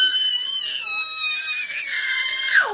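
A person lets out a long, loud, high-pitched scream held for nearly three seconds, wavering in pitch, then dropping off sharply at the end, close to the listener, with no other talk.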